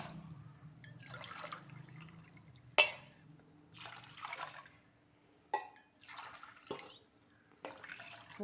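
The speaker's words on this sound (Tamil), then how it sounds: "இப்போ தண்ணி ஊற்றிருக்குறேன்" Water splashes and pours in several separate bursts into mixed vegetable sambar, fairly close, with quiet gaps between them and no talking.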